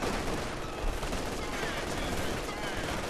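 Rapid, dense infantry gunfire from the Company of Heroes 2 strategy game at Stalingrad rail station, a continuous crackling fusillade of rifle and machine-gun shots, loud and close, with a voice faintly under it.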